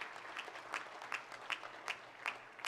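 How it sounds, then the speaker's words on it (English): Audience at an awards ceremony honouring women in Alberta claps, a fairly faint, thin round of applause with distinct rhythmic clap peaks, somewhat distant. "Let's give her a nice round of applause."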